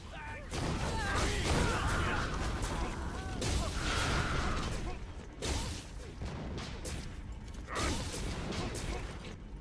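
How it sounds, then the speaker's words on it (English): An elevator rises to the last portion of the Fissure of Oblivion instance in the online game Aion, a loud continuous mechanical rumble with creaks and heavy thuds that swell and fade in waves. "the gate will drop and you're able to take the elevator up to the last portion of this instance itself"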